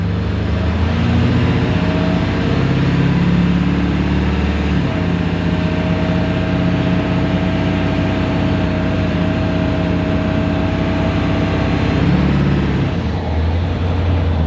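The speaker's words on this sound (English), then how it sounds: "Watch this. I'll give it a little gas." A truck engine heard from the driver's seat in the cab is given some gas, a steady loud rumble that rises slightly and holds for several seconds before easing near the end, with no talk over it.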